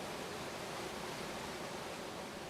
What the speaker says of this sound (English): from the tops of the mountains, you can see the water just rushing down under the rocks. Just listen to that sound